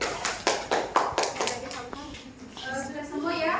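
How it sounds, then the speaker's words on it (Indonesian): Classroom students clapping for a presenting group during a microteaching session, a few sharp uneven claps at first, then children's voices chattering over the fading claps. "Oke, beri tepuk tangan kepada kelompok 3."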